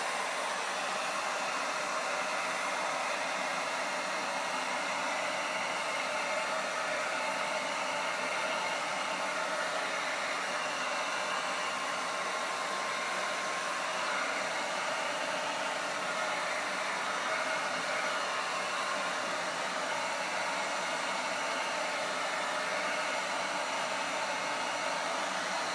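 A heat gun or hair dryer blows steadily at close range, a dense, even hiss of rushing air that holds unchanged and loud for the whole stretch with no pauses.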